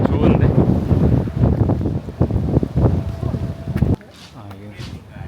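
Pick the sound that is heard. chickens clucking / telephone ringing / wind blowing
wind blowing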